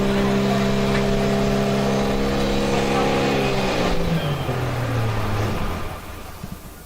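Pulling tractor engine at a Badger State Tractor Pullers event in Baraboo, Wisconsin, roaring loudly as it builds RPM, pitch holding high then dropping and sliding down before fading toward the end.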